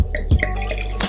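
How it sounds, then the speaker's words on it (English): Rosé wine poured into a glass in a brief, close pour with soft splashing and gurgling, heard alone without talk. "I'm gonna pour myself a little bit of rosé"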